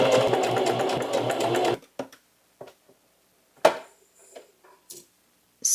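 A sewing machine back stitches a dress seam in a fast close whirring run lasting under two seconds, then stops, leaving scattered clicks and fabric handling noises.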